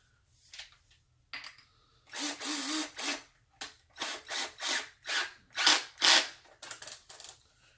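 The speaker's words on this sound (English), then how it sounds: "you're going to drill out this wood halfway with this hole cutter" A power drill with a hole cutter whirs in repeated short bursts, biting into wood with a grinding buzz between brief pauses, close and loud.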